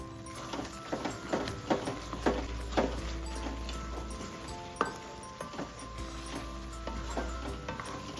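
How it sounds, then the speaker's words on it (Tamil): Mutton sizzles and spatters in oil in a pan while a utensil scrapes and stirs, with intermittent clinks against the metal, close and continuous. "இந்த மட்டன் வறுவல் செஞ்சோம்னா ஃபுல்லாக ஸ்டவ் ஃபுல்லாக தெறிக்க ஆரம்பிச்சிடும்"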